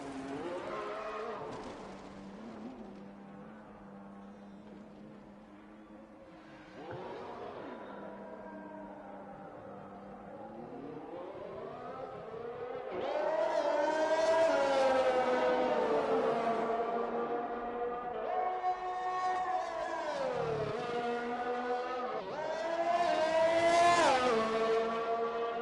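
A race car on a slow lap of Suzuka in a racing video game, its engine note rising and falling through gear changes and swelling louder in revving bursts, heard alone without talk.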